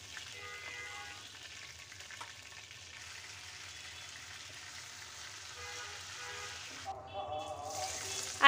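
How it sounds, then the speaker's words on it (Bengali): Country chicken lightly frying in a pan gives a faint, steady sizzle throughout, with a brief louder burst near the end. "আমি চিকেন যে দেশি মুরগি হালকা ভেজে নিচ্ছি"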